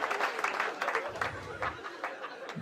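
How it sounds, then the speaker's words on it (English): Faint applause and chatter from a comedy club audience in Minneapolis, a steady patter of clapping mixed with murmuring and laughter for about two and a half seconds. "Big applause, break."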